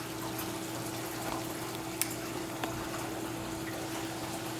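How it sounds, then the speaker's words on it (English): Air gurgles out of the full siphon line of a BeanAnimal aquarium drain as a steady watery rush over a constant pump hum, with a couple of faint clicks. "it'll take a minute to get all the air out of that full siphon line before it gets quiet again"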